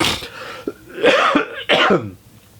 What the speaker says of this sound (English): Hold on while I cough at this damn cold again.